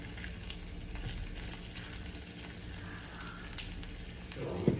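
Steady crackling sizzle of flounder frying in a hot pan on medium-high heat, constant and close, with a brief clatter near the end.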